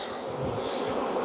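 Honey bees from a heavy, strong colony hum densely inside an opened hive in South Alabama in December, a loud, continuous close-up buzz with no break.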